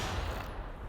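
Heavy-weapon gunfire in The Outer Worlds as landmines are shot away, a dense, quiet burst of rapid shots blurring into one continuous rattle lasting under a second, with no talk.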